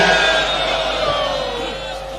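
A rally crowd at a martyrdom anniversary gathering for Benazir Bhutto keeps up a loud, sustained roar of chanting voices, steady throughout and slowly fading slightly toward the end.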